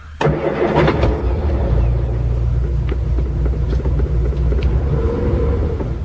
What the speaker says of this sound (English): The car snorted at them sullenly as they drew away from the house.